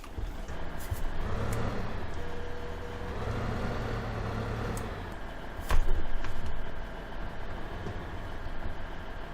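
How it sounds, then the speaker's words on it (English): A Gehl 4835 skid steer loader in Farming Simulator, a steady low engine drone that runs throughout with a brief louder surge partway through, no talking. "I think probably if I pick it up actually first with the skid steer"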